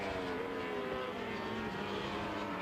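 Cup 1000 racing motorcycles on a warm-up lap at the Most circuit in the Czech Republic, a continuous droning engine roar at a middle distance, steady and moderately loud with no clear voices.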